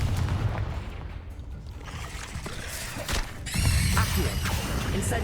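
A Confringo spell is cast in the Hogwarts Legacy video game, landing as a burst of crackling, explosive impacts over a dense bed of game noise and music, with a bright, fizzing magical flare near the end.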